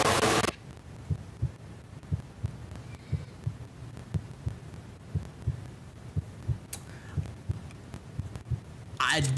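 Heartbeat in a horror video game, a steady rhythmic thump-thump of paired beats repeating about once a second under a low hum, moderately loud and near, with brief louder bursts at the start and end.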